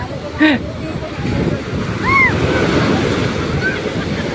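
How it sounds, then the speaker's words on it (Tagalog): Steady broadband rush of surf and wind across the whole stretch, with brief voices and a couple of faint tonal chirps over the wash. "Alon."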